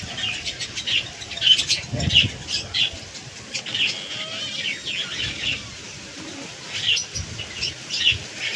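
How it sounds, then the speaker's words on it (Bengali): Domestic pigeons, including a white one, taking off and flying up from a house rooftop, with repeated soft wing flaps and scattered chirps over a faint outdoor background, no talk. "দেখো আমাদের পায়রাগুলো উঠছে"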